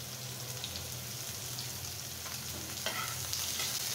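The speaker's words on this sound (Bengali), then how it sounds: "এখন আমি এটাকে খুব সুন্দর করে ভেজে নেব বিটরুটটাকে" Large pieces of beetroot fry in a pan with a soft, steady sizzle, the spoon stirring with occasional light scrapes and clinks toward the end, alone without talk.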